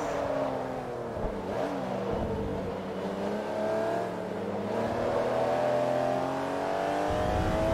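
A Porsche GT3 RS engine in the Forza Motorsport 3 racing game, revving and pulling through the gears with a steady, loud, close whine that climbs and dips across the stretch, alone without voices.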